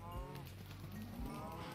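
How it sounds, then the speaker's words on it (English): Minecraft cows moo in low, drawn-out calls, a few overlapping lows repeating over roughly two seconds, fairly faint with no talking over them. "I do love the sound of cows crackling in the morning."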